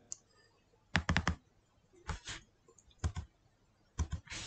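Keys on a computer keyboard are pressed in quick clustered bursts of sharp clicks, three or four at a time with brief pauses between, close and fairly clear with no talking.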